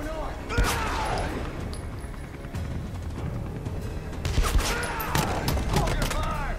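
Scattered gunshots ring out in a Beyond: Two Souls firefight, sharp cracks repeating irregularly over a steady rumbling background with voices talking.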